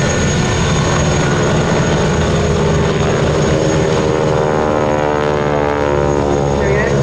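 Stearman biplane in a wingwalking display at the Duxford Summer Air Show, its radial engine and propeller droning loudly and steadily throughout, close and continuous as the formation rejoins.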